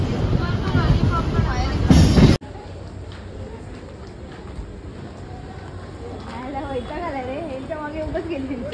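A Mumbai suburban fast train runs around Dadar station, its steady rumble and rattle carrying under voices, with a louder burst in the first couple of seconds before the noise settles to a continuous background roar.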